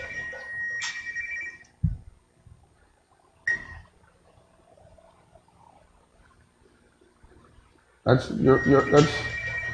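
A phone rings in a broadcast studio during a live interview programme: short tonal bursts near the start and again a few seconds later, then a louder, fuller melodic ring at the end, with voices faintly underneath.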